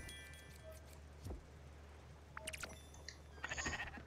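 Sheep bleat in the video game Spiritfarer, short bleats rising near the end over quiet game ambience, with no speech.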